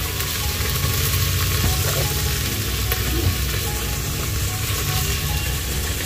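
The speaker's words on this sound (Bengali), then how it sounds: "এখন এই সবজিগুলোকে লবণ আর হলুদ দিয়ে ভাজি দিই" Vegetables with salt and turmeric sizzle steadily in a hot pan, a loud continuous frying hiss with occasional faint stirring clicks and no talking.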